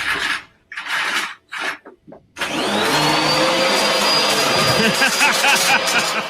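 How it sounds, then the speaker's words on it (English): A vacuum cleaner starts up and runs steadily, loud and close, sucking up loose glitter, with a rising whine and rattling grit; brief bursts of talk and handling noises come before the motor kicks in. "I gotta vacuum up this glitter mess real quick."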